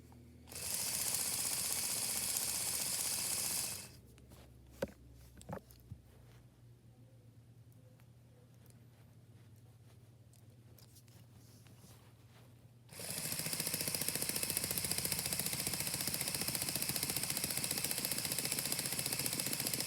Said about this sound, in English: It's run by 2 XL motors, and the gear ratio